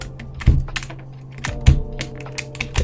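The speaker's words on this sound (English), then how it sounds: "This keycap puller pulls keycaps." Keycaps being pried off a Halo 65 HE keyboard with a keycap puller, giving a few sharp plastic clicks and clacks spaced about a second apart, close and fairly loud with quiet handling noise between.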